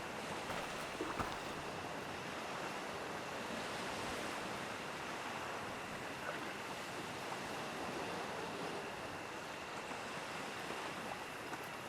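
Steady broadband wash of sea waves rolling onto shore, continuous and fairly loud with a windy hiss, no voices.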